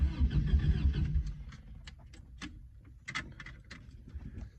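Starter cranking the engine of a 1984 Toyota truck on a weak battery: a rough churning turnover for about a second, then scattered clicks and faint mechanical rattles, fairly quiet.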